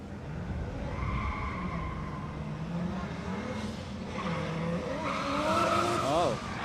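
A Nissan 350Z drifting at a Southeast Asia Drift Series round in the Philippines: a droning engine and rising tire squeal that peak near the end, with a commentator talking over it.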